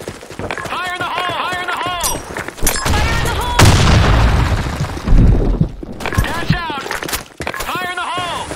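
Grenade blasts in the Sand Storm II map of a military video game, heavy booming detonations landing amid gunfire and rushing debris, with shouted radio voice lines between them, loud and close.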